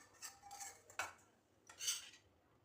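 Metal spoon clinking and scraping against a pan while cooked curry is served, in about three short, moderately close bursts with quiet gaps and no talk.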